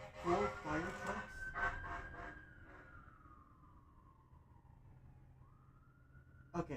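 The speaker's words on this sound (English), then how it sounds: "if they're sending out 4 fire trucks, at least 2, maybe even more police cars, and then like 3 ambulances" Emergency vehicle sirens wail in Batman: The Enemy Within, a rising and falling tone fading into the distance before swelling again, with game voices speaking over the start.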